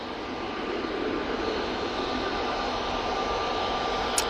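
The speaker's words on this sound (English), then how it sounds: "Easyjet now on the roll." An easyJet airliner bound for Amsterdam Schiphol rolls for takeoff at Manchester Airport, its engines a steady broadband roar held at a distance and unbroken for several seconds, with no talking.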